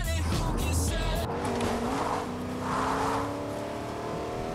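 A car in the video game Fortnite drives along with a steady engine drone and some revving, close and continuous, with faint background sounds over it.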